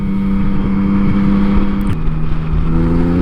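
A Yamaha MT-09 motorcycle engine drones steadily while riding in sixth gear at about 40 mph, a close, loud low hum with a brief shift in pitch partway through and wind noise around it.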